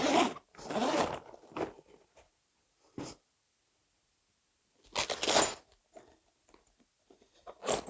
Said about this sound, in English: We're going to start by unzipping all of the zippers around this piece of fabric.